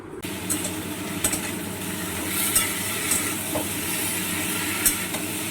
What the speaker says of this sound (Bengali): সমস্ত সবজিগুলোকে একসাথে নাড়াচাড়া করে নেব।